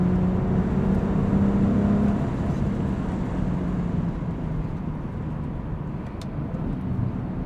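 A BMW 135i engine hums under part throttle while accelerating through corners on a coastal road, a low, steady drone with a faint tone that eases slightly after the first couple of seconds.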